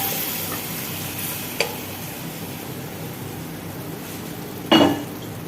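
Boiled mutton keema for an Andhra-style dish fries in a pan, giving a soft steady sizzle broken by two brief clinks of a spoon against the pan, one around the middle and a louder one near the end.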